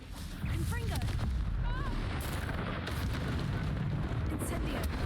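Explosive Confringo spell blast in Hogwarts Legacy during a fight with a troll, a heavy booming rumble that erupts and keeps roaring, with whooshing spell effects layered over it.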